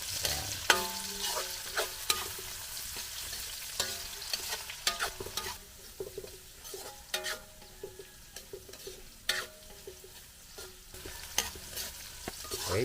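Onions and bay leaves sautéing in a pan during outdoor farm cooking of pork leg; a continuous sizzle with frequent sharp stirring scrapes and clinks, close and fairly loud, with no talk.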